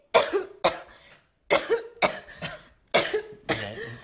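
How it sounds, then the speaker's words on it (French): Three bursts of harsh, close coughing from someone choking on saliva, each a pair of quick coughs separated by short pauses. "Et à ce moment-là, je me mets à tousser."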